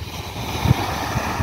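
Sea waves and wind make a steady broadband roar with low rumbling microphone buffeting, a brief swell of louder water at the middle.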